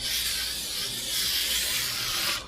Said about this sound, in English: So we're going to give it a spray or two.